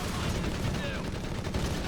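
Machine gun fire in the real-time strategy game Company of Heroes 3, a dense continuous rattle of battle noise filling the short moment.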